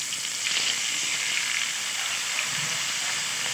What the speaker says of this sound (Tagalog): dahil mainit na po ang ating mantika, lalagyan na po natin ang ating pusit.